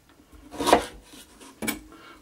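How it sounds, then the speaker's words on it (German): A kitchen knife cuts celery into strips for minestrone, making two close, scraping strokes against a cutting board with a quiet pause between them and no talking. "Schneide ich sie wieder in Streifen. Nochmal in Streifen."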